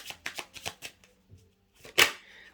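Tarot cards are shuffled up close for a five-card reading: a quick run of riffled card snaps, a short pause, then one sharper slap as the deck comes together, with no speech.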